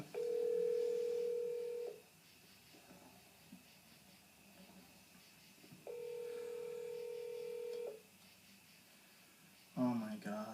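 Telephone dial tone sounds in two steady, fairly faint stretches separated by a quiet gap, followed by a short burst of sound at the end.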